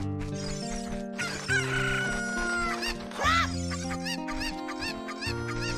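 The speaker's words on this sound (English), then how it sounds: "we need to gather all the chickens of Kakariko" Cuccos, the chickens of Kakariko Village in The Legend of Zelda: Ocarina of Time, cluck and crow over and over in a loud, steady chorus with bright game music underneath, and no one speaks.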